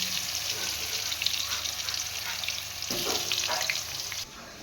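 Pieces of pointed gourd (potol) frying in hot oil, a loud continuous close sizzle and crackle with a brief clatter of handling partway through, ending as the level drops slightly.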